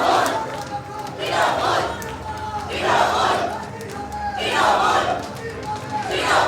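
Trinamool Congress supporters at a FAM (Fearless AITC Members) strategy meeting chant political slogans for Abhishek, with loud crowd voices rising and falling in repeated rhythmic bursts.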